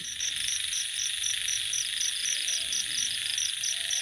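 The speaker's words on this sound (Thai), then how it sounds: "เสียงธรรมชาติ เสียงกบ" Frogs and insects calling at night in a dark, overgrown natural spot, with a steady high insect trill and rhythmic repeated chirps and croaks continuing throughout, fairly loud and without talk.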